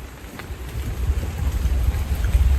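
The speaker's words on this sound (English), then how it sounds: "It'll be just the rain anyway." Steady rain patters close by, a soft dense hiss with low rumbling that grows slightly louder.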